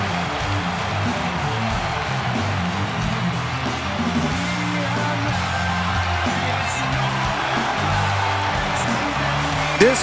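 A wrestling arena crowd at SummerSlam 2025 cheers for the returning wrestler CM Punk, a dense, steady roar of many voices with whoops rising out of it, sustained and loud for the whole stretch.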